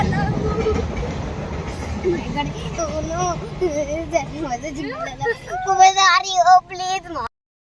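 A train rumbles heavily nearby, then the noise eases as children's voices and chatter rise over it toward the end.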